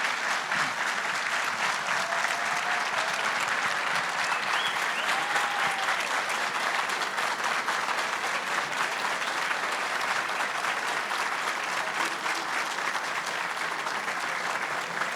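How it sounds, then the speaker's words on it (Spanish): Sustained audience applause at a book launch in the Dominican Republic, a dense, even clapping from a sizeable crowd that carries steadily for the whole stretch with no talk over it. "Muchas gracias por ese aplauso."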